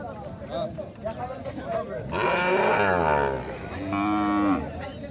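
Cattle moo loudly nearby at a livestock market, two long drawn-out calls following a stretch of murmuring voices and crowd noise.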